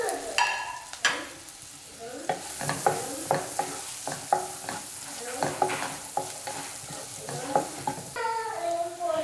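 Cut carrot fries in butter for carrot rice, a light sizzle under repeated sharp spatula taps and scrapes against the pan, coming in uneven bursts, with no talking.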